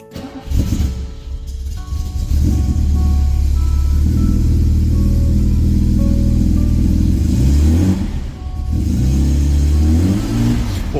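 A 1973 BMW E3 3.0si manual sedan with sports exhaust cranks and catches, then revs up and down in loud, deep bursts, settling to idle briefly before revving again, close by.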